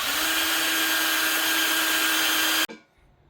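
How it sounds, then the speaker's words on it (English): A power drill bores out a rivet eyelet on a bike handle, whining steadily and loud for over two seconds before cutting off abruptly into near silence. "let's drill out the eyelet so we can transfer it to the print."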